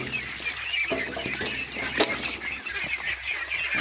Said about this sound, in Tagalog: patuloy na kumakain talaga ng asula yung ating alagang itik